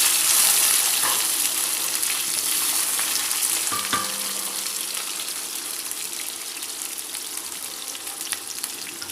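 Halved small onions (shallots) hit hot oil in a pan for Madurai mutton chukka, giving a loud, steady sizzle that settles into a continuous fry, with a brief clink of a utensil partway through.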